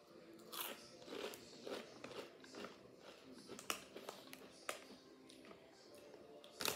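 Doritos 3D Crunch Smoky BBQ corn snacks bitten and crunched close to the mic, a series of sharp crisp cracks followed by steady chewing, with no talking.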